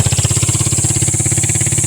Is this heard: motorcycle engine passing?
yes